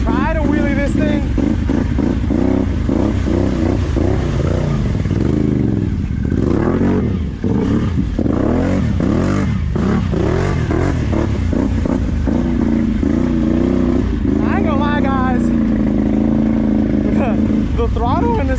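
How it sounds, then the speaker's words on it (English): A Can-Am four-wheeler ATV engine revs and drones steadily through a ride, rising and falling with throttle. Someone talks over the motor almost throughout. "They gave me the liberty to try somebody's Can-Am out. Try to wheelie this thing."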